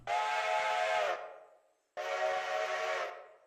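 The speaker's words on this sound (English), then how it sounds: "Bonus points if you know which whistle that is." Steam locomotive whistle on a powerful logging locomotive in the game Railroader, two long loud blasts, the first about a second before trailing off, then a second blast after a short gap, heard alone.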